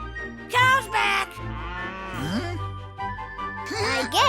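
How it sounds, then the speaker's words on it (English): Cartoon cows on a farm moo loudly in several drawn-out, wavering calls close by, one after another, with a faint jingle in the background. "We got all the cows back onto your farm."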